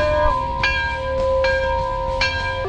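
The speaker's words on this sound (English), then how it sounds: "Somebody ring the bell!" A bell rings with a sustained, bright tone, struck a few times over a low rumbling background.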